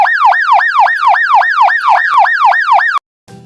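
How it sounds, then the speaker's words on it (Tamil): An ambulance siren in hyper yelp mode sweeps rapidly and repeatedly in a fast warbling cycle, loud and close for about three seconds before cutting off abruptly, followed by a brief faint tail. "அடுத்ததை நம்ம பார்க்க போகிற சைரன் சவுண்டு வந்து ஹைப்பர் எல்ப்."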